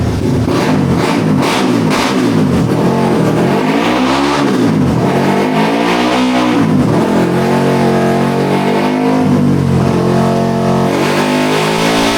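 A modified car engine on a chassis dyno revs hard and loud, its pitch sweeping up and down through repeated rising and falling pulls across the whole stretch.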